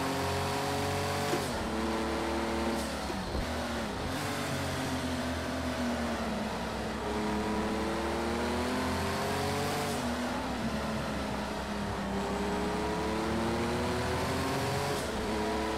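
Race car engine in Project CARS 2 screams loud and close, revving up through gears with repeated rising pitch sweeps and brief drops at each shift, sustained throughout.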